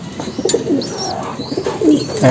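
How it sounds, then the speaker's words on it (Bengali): Pigeons in a home loft cooing softly and close by, a few overlapping coos with light chirps and rustling in between. "আমার খুবই পছন্দের এক জোড়া কবুতর"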